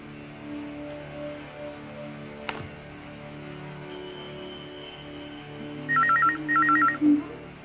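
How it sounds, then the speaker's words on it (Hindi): A telephone rings twice in quick bursts of a bright electronic warble, close and clear over a quiet room tone, after a sharp single knock earlier; no one speaks. "प्लीज फोन उठाना।"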